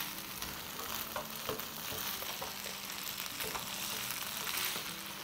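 Potatoes in a yogurt masala sauté in a pan, giving a dense, even sizzle with light spoon scrapes and small pops, close by with no voices.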